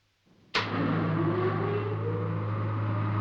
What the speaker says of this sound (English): Charging port engine.